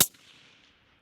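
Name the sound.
rifle shot from Savage Impulse 300 PRC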